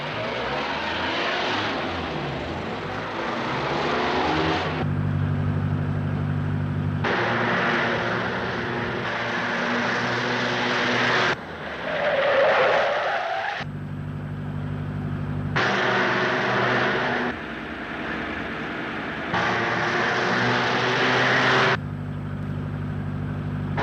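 A car driving at speed, likely an older vintage automobile, gives a steady loud engine drone with rumbling low tones, broken into segments by cuts, with no talk over it.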